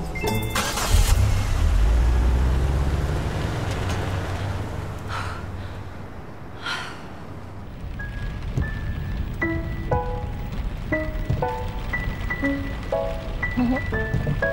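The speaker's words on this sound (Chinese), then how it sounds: "这个点本来就要下雨，过一会儿就停了。" Rain falling on a car, a loud broadband patter and hiss up close at first, easing to a softer steady wash as gentle musical tones enter.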